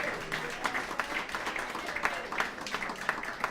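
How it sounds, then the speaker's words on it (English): Modest audience applause at a demoscene party opening ceremony, quiet and somewhat distant, with a voice faintly underneath. "Clap your hands for Stan"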